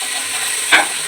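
Mushroom biryani masala with curd stirred in a pan, a soft steady sizzle with one brief louder scrape of the spoon near the end, close and without talk.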